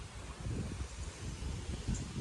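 Gusty stormy wind blowing through an open courtyard in the Konkan countryside during heavy rain, a steady low rumbling roar with rustling that rises and falls, no voices.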